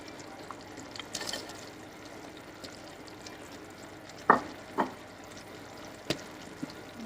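Hamburger soup being stirred in a pot as it cooks: faint liquid sloshing and a quiet simmer, with a few soft scrapes and clinks of the spoon against the pot, no voices.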